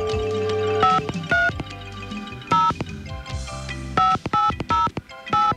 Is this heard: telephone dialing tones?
yes